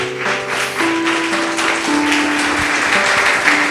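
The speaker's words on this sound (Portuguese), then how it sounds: "Louve ao Senhor com as suas palmas bem forte." Congregation at a Christian church service clapping for the Lord, a steady wash of applause under sustained organ or keyboard tones, fairly loud and continuous.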